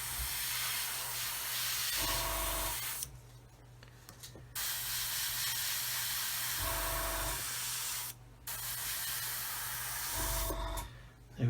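An airbrush sprays thinned grey paint onto a Roden 1/144 C-141B Starlifter scale model. It gives a close, steady hiss in long bursts, broken by a few short pauses.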